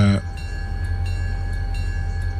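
A diesel locomotive in the Railroader video game idles with a steady low throbbing engine drone and a faint metallic hum, continuous and close, with a brief tonal burst at the very start.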